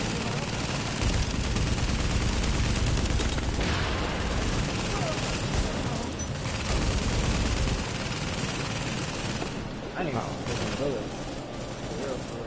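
Shotgun fire and other gunfire in The Division, a loud, dense barrage of blasts with mechanical clatter running almost without pause, while players talk over it.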